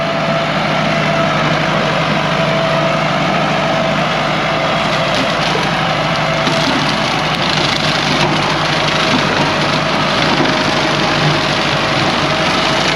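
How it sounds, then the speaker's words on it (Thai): Loud, steady engine drone of a Ford 6640 tractor running a CMT mower close by, a constant rumbling roar as it shreds through pineapple plants and overgrown grass. "เครื่องตัดหญ้า CMG ก็เอาอยู่ครับ"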